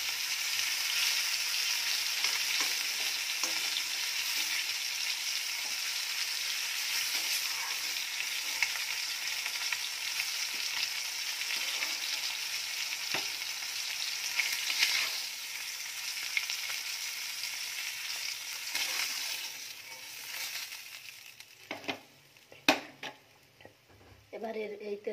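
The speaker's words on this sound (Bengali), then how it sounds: "দেখো হয়ে গেছে আমার মাছ ভাজা, প্রায় একটু ভালো করে ভেজে নিই।" Fish frying in oil in a pan for a Bengali fish curry with potato and ridge gourd, a continuous near sizzle with occasional utensil clinks, tapering off near the end into sharper pan knocks.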